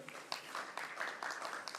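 At a Korean science and technology symposium, an audience applauds faintly and steadily as a panelist, the head of a research institute, is introduced. The soft clapping continues briefly with no voices over it.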